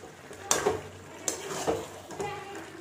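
Chicken cooking with cashew paste and green chilli paste is sautéed over high flame in a pan, with a low sizzle under three distinct spoon scrapes and clinks against the metal pan, about a second apart.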